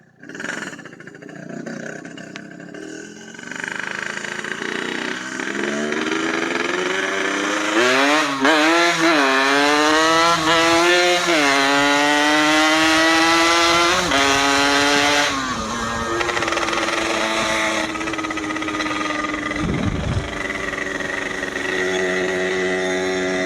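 A ported Yamaha RX King two-stroke motorcycle engine revs hard from idle, rising through repeated sharp climbing sweeps with a raspy high-pitched whine, loud and close, holding a sustained scream before dropping and rising again.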